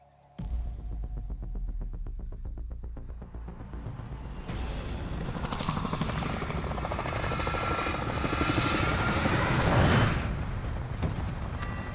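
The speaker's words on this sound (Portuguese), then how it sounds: "Achei um helicóptero." A helicopter in the Call of Duty: Modern Warfare Warzone battle royale spins up from near silence into a loud, steady throbbing rotor drone with a whining engine, growing fuller and holding strong to the end.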